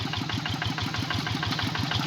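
A hand tractor's engine idles in a rice paddy. The note is a steady, close, loud mechanical chug with an even pulse and a light rattle, and no one speaks over it.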